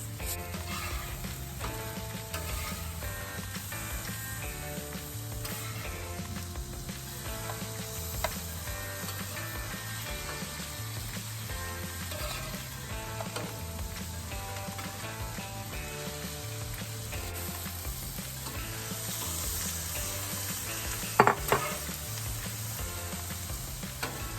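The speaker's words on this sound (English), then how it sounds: "just the vegetables and sauteing them with some garlic for about 5 minutes" Vegetables sauté with garlic on a large flat top, sizzling steadily for a long stretch under background music with rhythmic melodic notes, with a sharp metallic scrape near the end.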